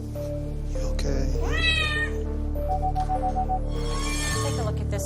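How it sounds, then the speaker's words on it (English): A young pregnant cat meows at an animal hospital during an emergency evaluation, two drawn-out rising-then-falling cries, close and clear over a steady mechanical hum. "So we have a young cat here."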